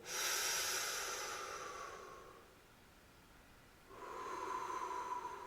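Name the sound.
deep breathing exercise, breathing in and out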